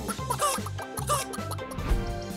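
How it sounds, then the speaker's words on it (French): A flock of hens gathered around scattered grain, clucking in a quick repeated rhythm over a steady musical backing at moderate volume. "Les poules se sont rassemblées autour des grains."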